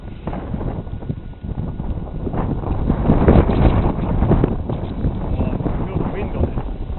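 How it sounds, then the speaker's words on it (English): Strong gusting wind on a windy day at an RC glider flying field, roaring and buffeting the microphone, with people speaking faintly beneath it. "Feel the wind on it."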